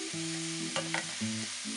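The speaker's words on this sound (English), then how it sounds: "I'm going to add in the seitan. Stir it all together." Leeks and seitan being stirred in a frying pan for a vegan pie, with steady sizzling broken by a few scraping stirs of a utensil, close and moderately loud, no talking.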